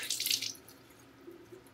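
A wet towel being wrung out by hand over a sink, excess water splashing and trickling down in a loud burst at first, then tapering to faint drips.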